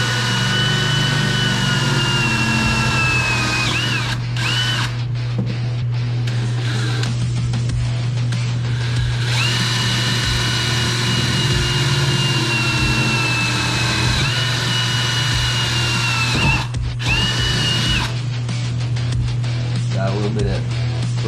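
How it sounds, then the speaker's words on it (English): A power drill bores holes in a Nissan 240SX. It gives a steady, loud motor whine with a low hum, runs in long stretches, and stops briefly several times between holes. "It's hole drilling time."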